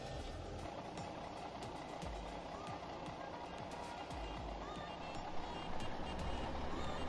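A large truck backs up with a steady repeated reversing beep in Farming Simulator 17, heard over a continuous engine rumble at a constant moderate level.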